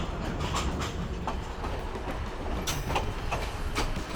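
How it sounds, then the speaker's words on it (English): A steady, loud rumble of a passenger train rolling along scenic rails through Indiana's Whitewater Valley, with faint rhythmic clatter from the wheels throughout. "We boarded the train at Connersville Station and took off towards Metamora."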